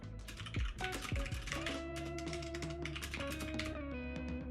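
Steady, close typing on a computer keyboard, with quick irregular key taps and clacks running continuously and no voices over them.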